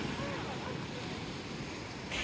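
Ocean surf rolling onto Talalla beach near Mirissa, Sri Lanka, a steady close wash of waves mixed with wind noise.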